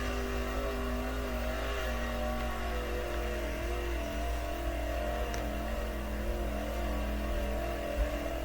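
Sprint car engine in the World of Outlaws racing game, a sustained steady droning rev with layered tonal harmonics held throughout, loud and continuous with no talk.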